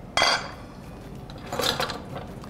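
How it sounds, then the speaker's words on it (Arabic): A pot lid clinks as it is lifted off a pot of chicken freekeh and set aside in a home kitchen, two metallic clatters about a second and a half apart over quiet background, close and fairly loud. "هناخد الغطا ده على جنب"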